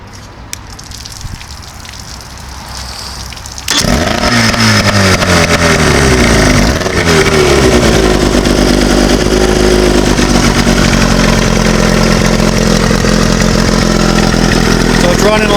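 An engine cranks and catches after a few seconds of quiet, then an outboard motor runs loudly and steadily, its pitch shifting as it revs.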